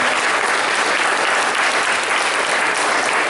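Sustained, steady applause from an audience at a closing-remarks event, dense and even throughout.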